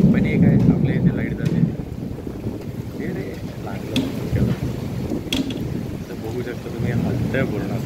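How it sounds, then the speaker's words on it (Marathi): Thunder rolls after a lightning flash during a heavy rainstorm with gusty wind. A loud, low rumble swells and fades under steady rain and wind noise, with a few sharper cracks. "आता इथे एवढी मोठी वीज चमकली, आता जोरात आवाज येणार आहे."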